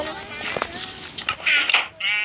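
Sheep in a Minecraft survival game bleat several times in quick succession, bright and close, with a faint murmur of players' voices beneath.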